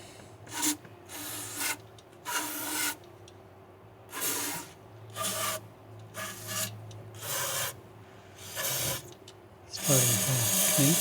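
Scrubbing a clogged part from a Honda Pilot 3.5 engine, rough brushing strokes come in repeated bursts of about a second each with short pauses between, ending in a louder, steadier scrub.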